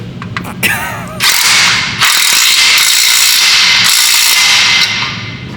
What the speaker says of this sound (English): I'm just tightening it, Chris.